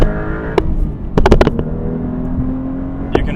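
A Porsche 911 Carrera T (992.2) engine pulls in second gear, a loud close engine drone with a few sharp mechanical clicks and clunks over it.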